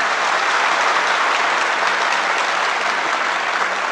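A lecture hall audience clapping loudly on cue, a thick, sustained wall of applause at full strength from start to finish, with no voices on top.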